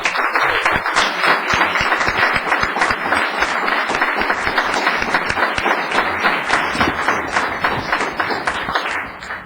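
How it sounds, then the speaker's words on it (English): Applause from the audience at a town council meeting, honoring people being commended: sustained crowd clapping with many distinct individual claps, fairly close and even, tapering slightly at the end. "I think that we owe them a big round of applause."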